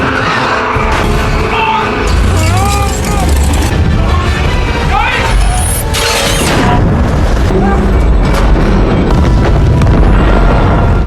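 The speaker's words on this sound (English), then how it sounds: "Accompanied by a violent explosion" A violent explosion tears through a space station, a loud, sustained roar of crashing and booming debris with sharp bursts swelling midway, mixed with whistling tones and dense rumble throughout.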